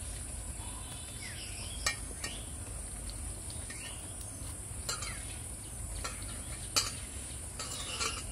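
Thick-cut onions tossed onto meat in a pan give a steady, low sizzle, with scattered clinks and scrapes as they are stirred.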